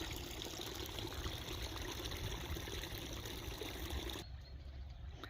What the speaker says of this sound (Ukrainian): У нас ось тут вода знайшла місце, прорвало, як прямо скоро буде як Ніагарський водоспад, чесне слово.